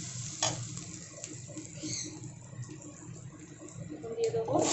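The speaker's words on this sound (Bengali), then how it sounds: "পেঁয়াজটা আমি খুব বেশি ভাজবো না, একদম হালকা করে ভেজে নেব" Onions lightly frying in a pan, a soft steady sizzle with occasional stirring scrapes and clinks, heard under a voice talking.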